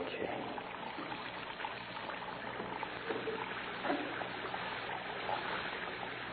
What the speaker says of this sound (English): Plug up your base and let the water run on the floor.